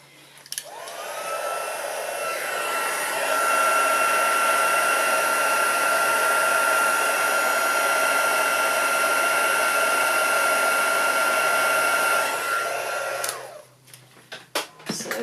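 Heat tool melting embossing powder during crafting, a steady close whirring blow of hot air that spins up, holds for about twelve seconds, then cuts off, followed by a few light clicks and handling sounds.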